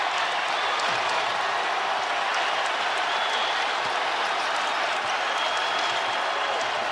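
A dense, steady roar of applause and cheering from a college basketball crowd in an arena in Omaha, continuous and full for the whole stretch.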